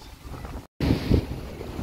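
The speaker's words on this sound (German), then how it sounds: "Ik hoop je kan dat verstaan, dat is hier een beetje windig." Outdoors at a wedding anniversary celebration, wind buffets the microphone with a low, blustery rumble that drops out briefly and then returns in stronger gusts.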